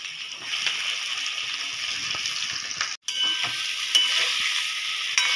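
Eggplant slices frying in hot oil, a steady close sizzle with a brief cutoff partway through, no voices.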